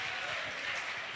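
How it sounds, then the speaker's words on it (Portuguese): Audience clapping at a talk on spirituality and mental health, a continuous dense wash of applause at moderate level with no break. "Palmas para ela."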